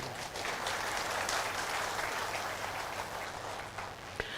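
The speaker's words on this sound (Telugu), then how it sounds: "చప్పట్లు తట్టండి అయ్యా" Dense, steady applause from an audience at a Telugu health talk, a continuous wash of clapping that holds at an even level throughout with no voices on top.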